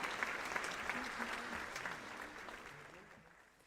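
Ceremony audience at the opening of Istanbul's Atatürk Cultural Center applauds as the culture minister is welcomed on stage, with dense clapping that gradually fades out and a voice faintly present.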